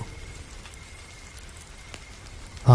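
Rain at night patters steadily in a soft, even wash of drops, with no voices, ending in a sudden louder burst at the close.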